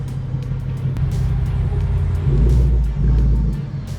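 A Ford Mustang GT with a 5.0 Coyote V8 rumbles at low idle as it backs slowly into a garage, a deep steady engine drone that swells slightly midway, close and loud.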